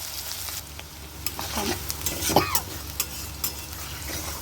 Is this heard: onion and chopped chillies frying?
yes